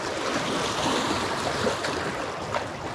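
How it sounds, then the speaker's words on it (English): Fast, high water rushes over a dam spillway in Kansas, a steady broadband roar of heavy current with wind buffeting the microphone, continuous and fairly loud. "Water is really high, it's really fast, there's a lot of current."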